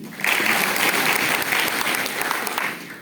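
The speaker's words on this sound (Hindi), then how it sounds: "इनके लिए ताली बजाइए" An audience at a voter-awareness gathering claps together in a short, even burst of applause that swells quickly and fades after about three seconds.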